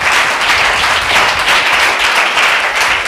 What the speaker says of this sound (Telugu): మీ చప్పట్లు మీ పక్కన కూడా వినపడు అట్లా కొడుతున్నారు